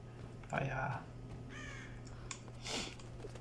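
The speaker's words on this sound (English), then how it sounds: "Birds are everywhere." Birds caw in Tomb Raider, with two or three harsh, raspy calls spread over a few seconds. They sound moderately close against a steady low game ambience.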